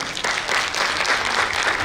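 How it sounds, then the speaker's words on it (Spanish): Audience applause at a rap music composition contest event, dense continuous clapping from a crowd, moderately loud and sustained with no talk. "Un aplauso para él."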